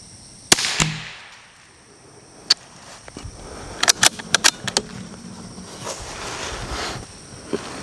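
Rifle shots from a CZ457 MTR fired outdoors in a group session, sharp isolated cracks spaced several seconds apart, with a quick cluster of reports in the middle and light wind noise between.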